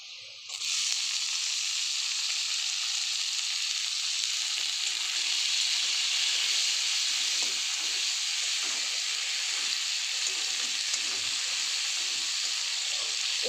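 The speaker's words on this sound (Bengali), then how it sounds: "একটু টমেটোটা দিয়ে একটু নেড়ে ভেজে নেব।" Tomatoes hit a pan of fried onions and erupt into a loud, continuous sizzle and hiss. Stirring scrapes and bubbling pops run through it for over ten seconds.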